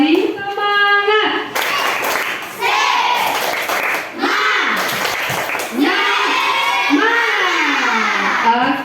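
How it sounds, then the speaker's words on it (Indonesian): A school class of children claps together at their teacher's prompt, the clapping mixed under loud chanting and speaking voices, with bursts of hand claps through the middle. "mari kita berikan tepuk tangan kita semua"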